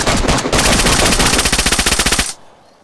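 Rapid automatic gunfire from the survival game DayZ rattles in a loud, close, evenly spaced burst of shots for about two seconds, then stops abruptly, leaving near silence.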